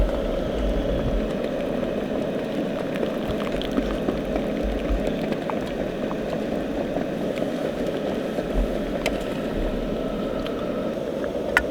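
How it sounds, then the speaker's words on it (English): A steady, rolling bubbling of water boiling a food bag at a wild campsite holds throughout, with a low rumble underneath and a few faint clicks scattered across it. "We're boiling the bag in there."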